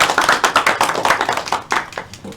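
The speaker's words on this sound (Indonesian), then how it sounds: "Berikan tepuk tangan untuk Mbak Nia." A small classroom group claps for a student presenter at a geography microteaching session, with fast, uneven, close-up hand claps filling the whole moment.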